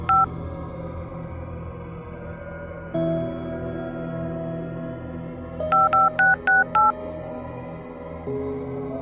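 A phone number is punched into a telephone keypad: a single tone, then a quick run of five evenly spaced dialing beeps, clear and close, with a low background hum and no talking.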